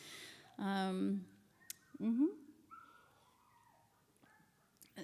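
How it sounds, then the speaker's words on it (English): A puppy yips and whimpers a few times in short high bursts in a courtyard, with a bird chirping faintly in between. "There are puppies, it sounds like, behind me in the courtyard"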